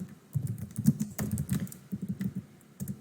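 Fingers tap on a computer keyboard in uneven bursts of quick, close clicks while HTML placeholder text is entered, with short pauses between runs of keystrokes.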